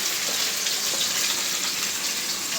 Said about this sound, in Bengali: একটু পানি দিয়ে দিচ্ছি যাতে মশলাটা তুলে না যায়